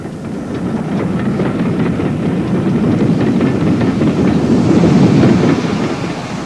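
GWR pannier tank steam locomotive running on the Wye Valley line in 1959, a steady low rumble with rhythmic wheel clatter, sustained and fairly loud throughout.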